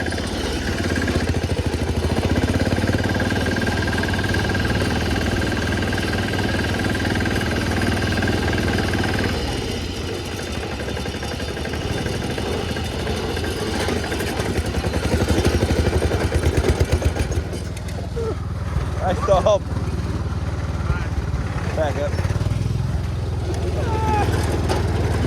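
A diesel engine swapped into a 1970s Sears lawn mower idles and chugs off-road through a ravine, a close, steady, clattering rumble that runs the whole time, with some rattling and knocking in the second half.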